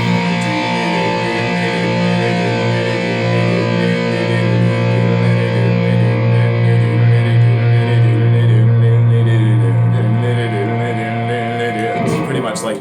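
A guitar carrying the bass line for a song, a low sustained droning part with a slightly distorted effected tone, steady and loud throughout before a brief rustle at the end.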